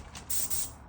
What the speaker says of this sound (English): airbrush here, and yeah, it helps atomize the paint better